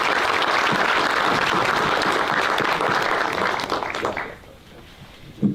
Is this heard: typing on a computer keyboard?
no